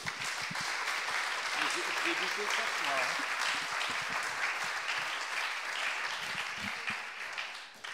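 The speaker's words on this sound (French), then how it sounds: "Applaudissements s'il vous plaît" Steady applause fills a literary author meeting, sustained and even throughout, with a voice briefly rising over the clapping partway through.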